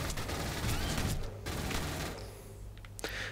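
Smart gun firing in the video game Aliens: Colonial Marines, a dense continuous burst of rapid automatic shots with brief gaps, loud and close, with game effects mixed in.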